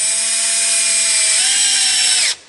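A cordless drill spins steadily as it drives a screw into plastic while fitting pedals and rudder gear to a 3.60 m boat, a loud constant whine that dips in pitch under load before the clutch slips and the motor stops.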